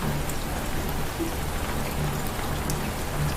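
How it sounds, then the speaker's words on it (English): Steady rain falls outdoors, a dense continuous hiss of drops on surfaces, even in level throughout, with no voices. "when Long was cooking outside in the rain"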